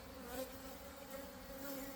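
A swarm of bees drones steadily as it returns into a ten-frame hive, a faint continuous buzzing hum with no break.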